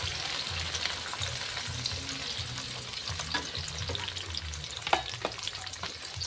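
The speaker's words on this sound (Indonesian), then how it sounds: "iki minyake wis panas. Lombok berambang bawange di tumis." Chili, shallots and garlic sauté in hot oil, giving a steady, close sizzle with occasional stirring scrapes and a sharp clink near the end, no voices.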